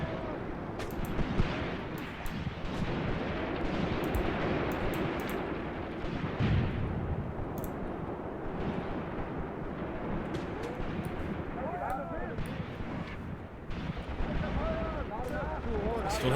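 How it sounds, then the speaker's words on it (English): Incendiary artillery rounds burst in the war game Graviteam Tactics, a dense and continuous rumble of blasts and crackling fire close by, with muffled voices mixed into the din. "incendiary rounds right on top of us"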